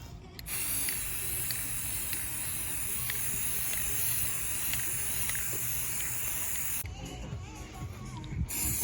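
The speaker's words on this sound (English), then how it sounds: "I think what I'll do is I'll spray on the outside" Garden sprayer hissing steadily as it sprays around the outside of a circular garden bed, a continuous close spray that pauses briefly near the end before resuming.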